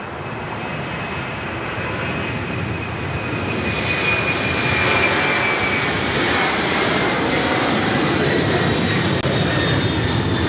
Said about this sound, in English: That is Air China Cargo 8442 taking off to Shenyang